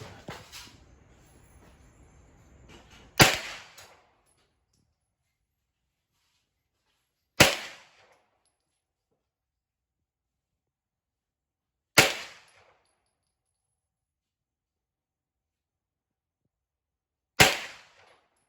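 Four sharp, clean airgun reports from a Freedom FX AR9 air rifle, each a single crisp crack spaced about four seconds apart with quick decay and silence between, preceded by faint rustling.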